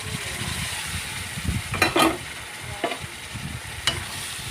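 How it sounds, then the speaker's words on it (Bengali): Pointed gourd pieces frying with spices in a pan, a soft continuous sizzle broken by a few sharp scraping stirs of a utensil, close-up. "পটলগুলো দিয়ে ভালো করে নেড়ে নেব ভালো করে"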